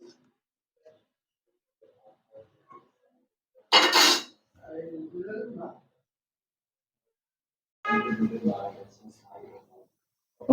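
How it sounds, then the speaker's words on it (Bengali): A metal spatula scrapes and clatters against a pan while chicken masala fry is lifted onto a serving plate, two short bright bursts of clinking and scraping separated by quiet, with soft handling noises between. "এখন সার্ভিং প্লেটে উঠিয়ে নিচ্ছি"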